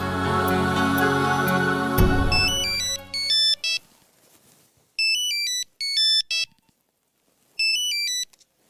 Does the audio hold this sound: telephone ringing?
yes